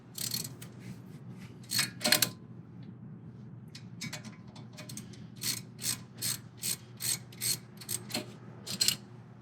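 Short bursts of quick ratchet clicking come from a 13 and 15 millimetre socket breaking loose the brake caliper bolts on a Jeep Wrangler. The bursts are close and fairly quiet, separated by brief pauses.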